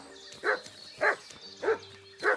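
A dog in the medieval game Kingdom Come: Deliverance 2 barks four times in an even rhythm, each bark close and clear against a quiet background.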